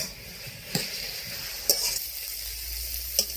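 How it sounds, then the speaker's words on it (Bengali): Taro leaves sizzling in a hot pan, a steady frying hiss broken by three sharp stirring scrapes spaced about a second apart. "এখনো কিছুক্ষণ এটা ভাজা ভাজা হবে"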